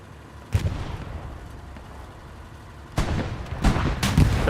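Tank cannon shell fired in Hell Let Loose on the Sainte-Mère-Église map: a sharp booming shot followed by rumbling battle noise, then further heavy blasts and gunfire close by and loud.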